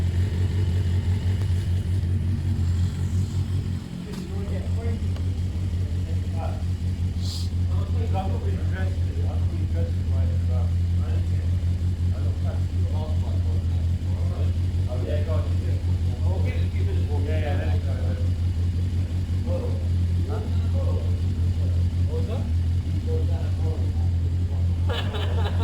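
A Suzuki Bandit 400cc motorcycle engine idles steadily after a snapped spark plug repair, a constant low hum with light mechanical ticking, while people talk over it.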